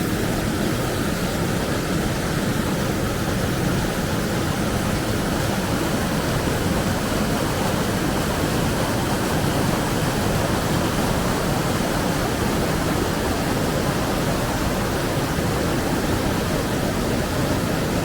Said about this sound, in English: I do love waterfalls.